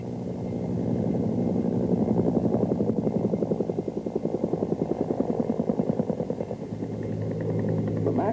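A Bell AH-1 helicopter on landing approach gives off a loud, steady rotor thump with rapid rhythmic blade pulses over a low engine drone, close and continuous, swelling and easing slightly.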